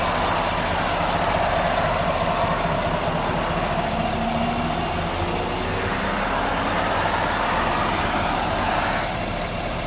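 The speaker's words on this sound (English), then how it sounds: "pretty smooth running engine too" A V8 engine in a Rocky Ridge Altitude truck idles smoothly and steadily, a close, even low rumble with no voices.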